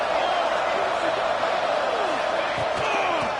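A football stadium crowd before a third down roars loudly and continuously, with scattered whoops and whistles rising over the dense wall of cheering.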